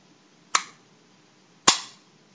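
Two sharp, crisp mechanical clicks from the safety of an M70 AB2 rifle, about a second apart, close and distinct against near silence.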